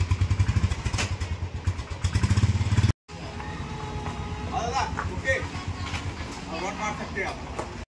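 A motorcycle engine, its oil filter just cleaned, runs with a steady, throbbing idle close by, cuts briefly, then carries on more roughly while someone talks over it.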